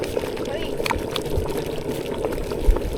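Milk pours into a pot of pilaf rice in a village kitchen, where rice, onion, nuts, raisins and chilies are already cooking. A continuous liquid splash and bubbling hiss runs steadily throughout, with faint voices in the background.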